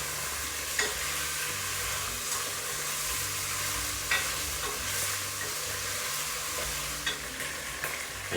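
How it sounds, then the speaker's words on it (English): Flour-dredged beef chunks frying in batches in a stock pot with a dash of vegetable oil, giving a steady close sizzle with occasional stirring scrapes and pops throughout. "fry off my beef that I've dredged in flour, salt and pepper. Fry it off in batches in the stock pot now with just a dash of vegetable oil"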